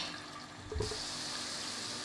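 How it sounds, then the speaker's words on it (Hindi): Water is poured into a pot of browned meat and spices for shab daig, a broad steady rush starting partway through and continuing to the end without talk. "उसके बाद हम इसमें पानी ऐड करेंगे।"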